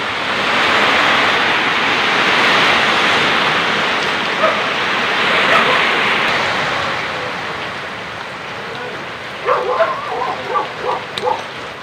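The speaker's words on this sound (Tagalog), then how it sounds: "Ah, napakalakas ng ulan." Heavy rain pours down during a typhoon as a dense, steady roar that holds for about twelve seconds, with a few short dog yelps breaking through near the end.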